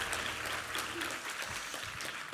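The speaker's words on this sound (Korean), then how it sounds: "우리 하나님께 감사와 영광의 박수 올려드리겠습니다." A church congregation at a Sunday worship service breaks into steady, dense applause that fills the hall and holds level throughout, with faint voices mixed in.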